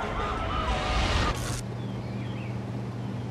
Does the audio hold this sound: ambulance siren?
yes